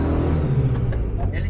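A Volkswagen Fusca 1300L engine with a carburetor fault rumbles low and rough under load, struggling and misfiring, while someone talks over it.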